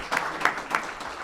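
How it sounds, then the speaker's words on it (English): An audience at a summer program event applauds: brief, soft, diffuse clapping from a crowd, heard at a distance for just over a second. "Please give them a round of applause as well."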